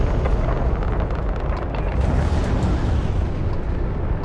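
A missile fired from a ship in Starfield strikes its target, giving a sustained, loud roaring blast with a rumbling low end that holds steady throughout, with no voices.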